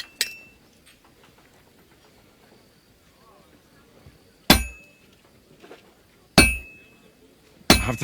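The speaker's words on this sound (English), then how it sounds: "I have to hammer it more evenly." Metal is hammered in a forge in Kingdom Come Deliverance 2: four loud, sharp clanging blows at uneven intervals, each with a short ringing decay, separated by quiet stretches.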